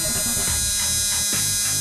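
Steady electric motor whine with strong high harmonics and a constant buzzing hum during a battery regeneration test, running continuously and loud without speech.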